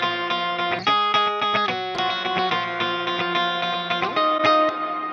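Dense, heavily processed music bathed in a long 12-second reverb at a 50% mix, low rumble below 300 Hz cut away, sustained tones smearing into one another at a steady loud level throughout.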